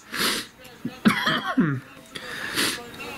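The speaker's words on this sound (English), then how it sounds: "even though I'm coughing a little bit" A man with an itchy throat coughs a few short, raspy times, close to the microphone, with breathy throat sounds between coughs in a quiet indoor setting.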